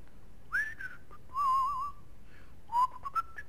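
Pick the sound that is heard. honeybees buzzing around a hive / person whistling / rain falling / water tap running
person whistling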